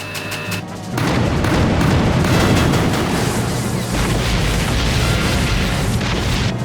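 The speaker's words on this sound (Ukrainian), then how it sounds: "Гармати з лівого борту зарядити бронебійними. Відкрити вогонь." Broadside of ship cannons firing armor-piercing shells in an anime naval battle: a quiet start, then from about one second a loud, dense wall of booming blasts and rumbling gunfire that continues to the end, with no talk.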